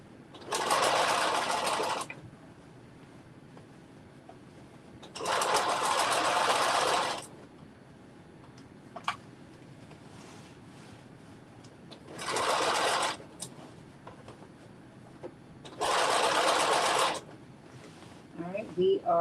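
A sewing machine stitches a sleeve into a McCalls 7892 garment in four separate loud bursts of steady running, each a couple of seconds long, with quiet pauses and faint handling noises between.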